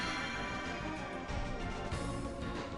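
A boss arm being destroyed in the Legend of Dragoon video game gives a dense, sustained crunching, rumbling effect that stays loud and steady for about three seconds, with no talking.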